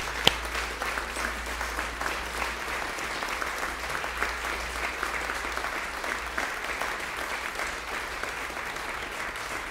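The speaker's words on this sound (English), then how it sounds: "Round of applause, man." Crowd applause after a live music performance, broad and steady clapping from a large audience that holds at an even level throughout.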